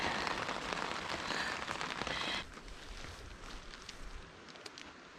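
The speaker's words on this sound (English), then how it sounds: "Can you hear that rain?" Steady heavy rain drumming on a tent at a campsite, a dense continuous patter that is loud at first and eases to a softer, still constant downpour partway through.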